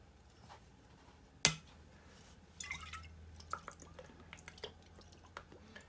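Worcestershire sauce is poured into a meatloaf mixture, with a sharp splash followed by faint dripping and small wet squishes, quiet and close.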